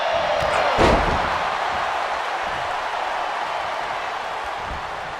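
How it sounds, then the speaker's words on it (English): In the wrestling video game WWE 2K23, a wrestler slams an opponent face-down with one heavy thud near the start, followed by a sustained roar of arena crowd noise. "Shot after shot, then slamming their face down."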